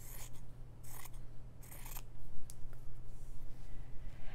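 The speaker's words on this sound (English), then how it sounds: "So I'll take this fabric and I'll just cut it to a more manageable size." Scissors snip through fabric in a series of crisp, separate cuts during a slow-stitching Valentine craft, close and clear over a steady low hum, with no talking.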